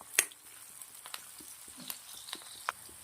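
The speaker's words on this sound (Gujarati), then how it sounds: "ઘીના અંદર શેકી લેશું" Red and green chilies frying in ghee after garlic and cashews, a faint, thin sizzle broken by a few sharp crackles and pops, close by and without speech.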